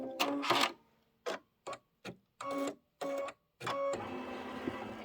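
An embroidery machine stitches out a Halloween-themed pillow design, its needle running in short bursts of rapid mechanical stitching separated by brief pauses, then settling into a longer continuous run, close and moderately loud with no voices.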